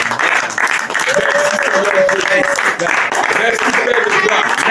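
A church congregation applauds and cheers during a spiritual battle prayer session in Cameroon, sustained dense clapping and crowd noise mixed with loud voices throughout.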